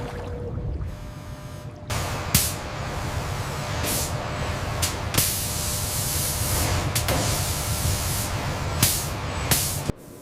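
Robotic seam-sealant spraying on a Tesla Model Y body in a car factory: a steady hiss of spray over a constant industrial hum, broken by several sharp bursts, with no talk.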